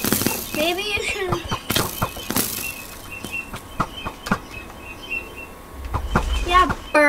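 Birds chirping in the Minecraft-style game Insanecraft, short tweets and calls scattered through the clip over game noise, with a person talking at times.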